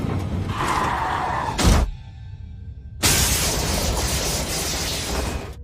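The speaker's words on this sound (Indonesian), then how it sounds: "membuat Pin-up terlempar menembus kaca depan dan tewas seketika" Car windshield glass shattering as a body is thrown through it in a film crash scene: a loud sustained burst of breaking glass and impact noise, a brief drop, then a second dense crash of debris and rumble.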